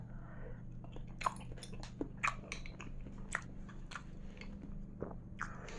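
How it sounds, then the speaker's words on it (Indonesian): Bakso meatballs chewed up close with soft biting and wet, squishy mastication in an irregular rhythm over a steady low hum, with no talking. "aku nyobain baksonya aja ya"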